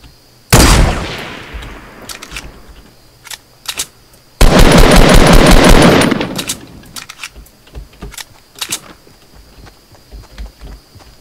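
Gunfire in the Fortnite battle royale game, two loud sustained bursts of rapid automatic fire, the second longer, followed by sharp scattered single shots and clatter at close range.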